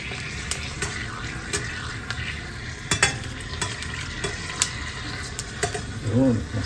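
Pork skin chicharon frying in oil as it is stirred, a steady close crackling sizzle punctuated by sharp pops and utensil clacks throughout.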